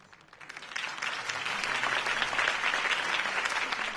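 Crowd applause following a mayoral campaign speech in the video game Batman: The Telltale Series, steady, moderately loud clapping that swells in after a brief pause and holds evenly throughout.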